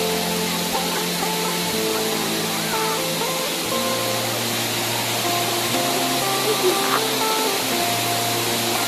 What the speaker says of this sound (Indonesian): di air terjun inti.